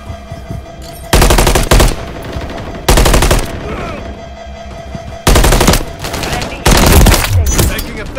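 Loud bursts of automatic gunfire from Modern Warfare 3, several rapid machine-gun volleys broken by quieter gaps holding game sounds and faint voices.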